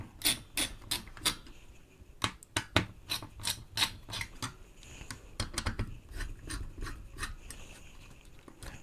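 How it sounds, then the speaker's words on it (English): A screwdriver tightens a CPU cooler onto an ASRock B650E motherboard in an NZXT N7 build, giving a steady run of close, sharp clicks and scrapes with no speech. "Do a couple of screws each side."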